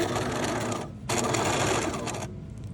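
A sewing machine stitches around the collar of a button-up shirt, running in a steady close-up burst, stopping briefly near the one-second mark, then running again before trailing off.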